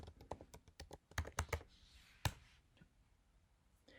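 Close, quiet keystrokes clatter on a computer keyboard in quick irregular bursts, then pause and finish with a few scattered taps.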